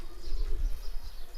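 Pigeons cooing on a rooftop loft of breeder pairs and flying pigeons, low rolling coos repeating close and fairly loud over a short stretch.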